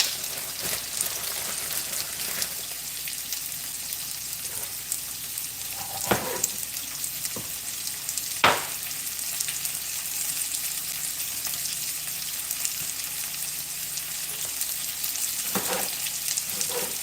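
Tomato sizzles and fries steadily in a pot on the stove, a continuous hissing crackle with a few sharper pops and stirring sounds.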